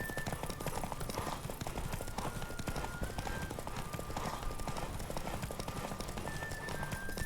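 Horse hooves clip-clopping at a steady galloping rhythm in The Witcher 3, continuous throughout over game music and ambience, with faint voice traces in the background.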